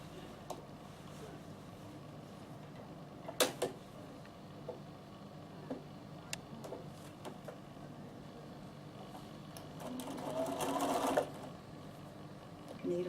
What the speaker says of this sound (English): So I'm just going to stitch this down, and then I will see you after the break.